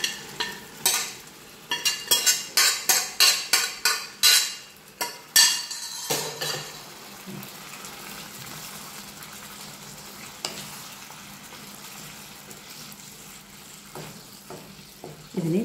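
Cooked beef being stirred in a pressure cooker for a Kerala beef roast, with a rapid series of loud metal spoon scrapes and clanks, then a steady sizzle of frying.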